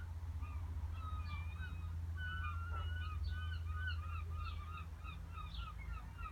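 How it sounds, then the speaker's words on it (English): Distant seabirds call in scattered honking cries over a steady low rumble of wind or traffic near the seaside, faint and outdoors, with no talking. "Listen to the seabirds."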